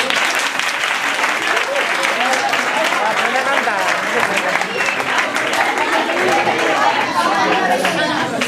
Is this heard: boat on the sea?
no